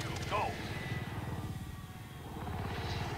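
Support helicopter arriving in a video game, a steady rotor thump and engine rumble rising and falling throughout, with a brief sweep early on and a faint background din.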